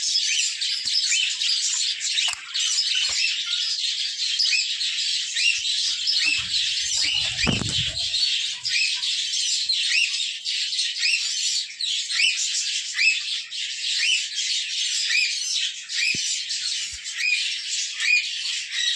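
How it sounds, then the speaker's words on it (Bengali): A dense chorus of small caged birds chirps and squawks continuously, close and loud, with a brief low thump partway through. "চলুন এবার এই পাখিগুলো আপনাদেরকে দেখাই।"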